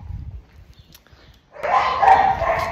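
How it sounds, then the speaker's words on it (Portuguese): A dog barks in a sustained loud burst after a quieter stretch of low rumbling sounds, fairly close and dominating the end. "Late mais, late mais."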